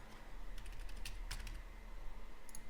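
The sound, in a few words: typing on a computer keyboard to enter a trade exit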